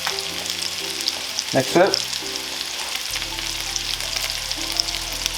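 Thinly sliced garlic, a single clove, frying in a pan over slightly lowered heat, giving a steady sizzle with a brief burst of stirring and clatter near the middle, while a voice speaks briefly at the start.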